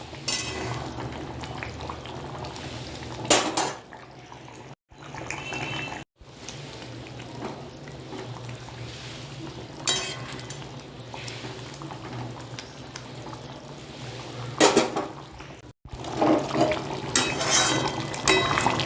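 Pomfret fish curry simmering in a pan, a soft continuous bubbling with occasional louder stirring or clattering bursts and a few abrupt dropouts.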